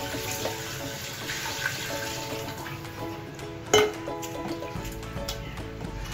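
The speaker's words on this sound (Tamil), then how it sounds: "இது ஃபுல்லாக நம்ம வந்து அந்த தண்ணியை அளந்து நம்ம ஊற்றியாச்சு" Water pours steadily into a cooking pot for Coimbatore-style chicken dum biryani, a continuous running splash that lasts throughout, with one brief louder slosh near the end.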